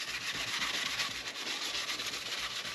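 Steady close-up rubbing on a plastic Honda C200 motorcycle side cover, worked by hand with a Meguiar's headlight restore kit to prep the surface; a continuous, even scuffing hiss with no pauses and no voices.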